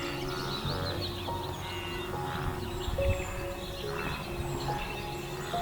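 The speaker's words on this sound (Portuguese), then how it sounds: "apenas o som do vento soprando pelas pastagens e o fraco chorear dos pássaros" Faint bird calls drift over a windswept savanna grassland, with thin chirps and short whistled notes scattered across a steady, soft background hiss.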